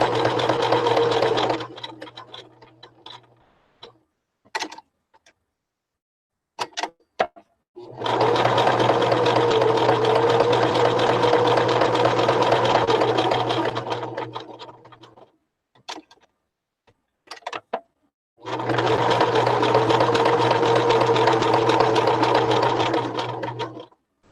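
A sewing machine back stitches a shabby chic fabric clutch in three long, steady runs of loud motor hum, separated by quiet gaps with a few faint clicks and handling taps.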